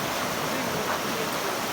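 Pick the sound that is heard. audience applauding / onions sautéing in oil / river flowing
river flowing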